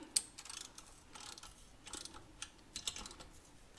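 A wrench ratchets on the exhaust header nuts of a 2019 Honda Monkey during a Yoshimura exhaust install, quiet close clicking in short irregular bursts with small metallic ticks between them, no talking.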